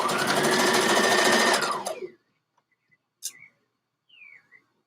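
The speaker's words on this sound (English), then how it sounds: "So you must stretch the fabric when you're sewing it." Sewing machine running fast and steady as it stitches stretched fabric for a garment sleeve, loud and close for about two seconds before stopping, followed by faint handling clicks and quiet squeaks.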